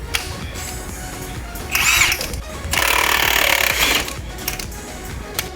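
A power tool spins a castle nut off a motorcycle rear wheel, giving two whirring bursts, a short one and then a longer sustained run, between quieter workshop noise.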